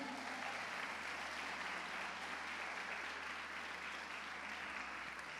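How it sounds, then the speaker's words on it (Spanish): A church audience applauds the Lord during a sermon, a faint, distant and steady wash of clapping that fills the whole stretch evenly with no voices standing out. "Denle un aplauso al Señor"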